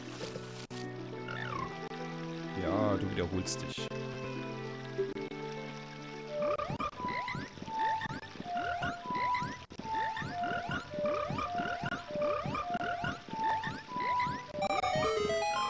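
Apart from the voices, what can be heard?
frogs croaking in Zelda Ocarina of Time video game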